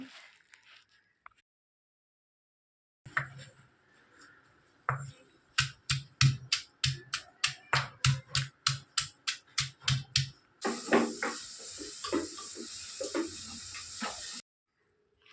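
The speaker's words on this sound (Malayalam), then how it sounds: "അതിന് വേണ്ട ഉള്ളിയെല്ലാം ഇതേ പൊളിച്ചെടുക്കുന്നുണ്ട്" Onions being peeled by hand for a prawn curry give a quick run of crisp, close snapping clicks, followed by a few seconds of steady hiss. No one speaks.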